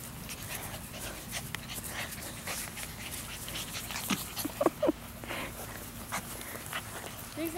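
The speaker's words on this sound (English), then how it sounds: "These puppies love to play and they love their toys." Small puppies pant and let out tiny high whimpers and squeaks, with soft scuffling and rustling of play nearby, all fairly quiet.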